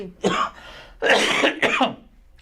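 Two or three harsh coughs into an elbow close by, each a short rough burst, with brief pauses between them and no talking.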